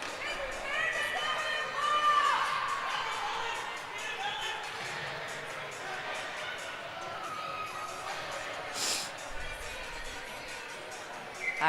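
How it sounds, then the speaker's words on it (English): Crowd noise in the stands at a USA versus Canada lacrosse game, a steady distant roar beneath continuous commentary, with a brief swell partway through. "Lot of noise here in the crowd."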